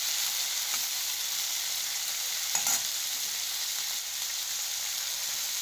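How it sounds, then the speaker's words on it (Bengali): Puti and bata fish, freshly caught and still alive, sizzle in a frying pan with a steady, close hiss, broken once by a faint clink. "দেখো আমি একবারেই মাছ ভাজাটা বসিয়ে দিলাম।"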